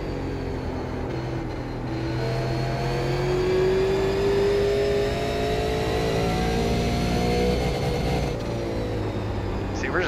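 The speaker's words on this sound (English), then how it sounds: "we can't be bouncing off the rev limiter, halfway down the straightaway" Super late model race car engine in the iRacing video game, held at high revs and bouncing off the rev limiter, a steady loud mid-pitched drone with rising harmonics throughout.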